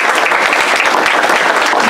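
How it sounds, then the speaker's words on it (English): Loud, dense audience applause during a school board of education general session meeting, with many hands clapping in a continuous, even burst. "Let's give them a round of applause."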